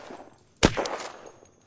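A single sharp gunshot in the video game Unturned cracks out loud and close, then rings briefly with a decaying tail, with no talking over it.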